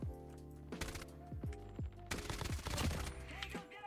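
ISO SMG fire in COD Mobile: rapid, loud automatic bursts of gunshots in several quick strings, with echoing reports and no talking over them.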